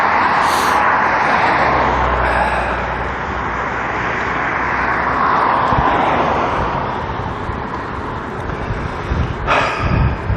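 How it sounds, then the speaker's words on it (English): A fixed-wing airliner roars low overhead on landing approach near Amsterdam, a loud broad jet rumble that swells and slowly fades, with a short sharp noise near the end. "And here comes another one already. They really do land every few seconds here"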